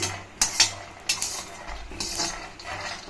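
Groundnuts dry-roast in a pan while a metal spoon stirs them, giving close, irregular clinks and scraping rattles against the pan.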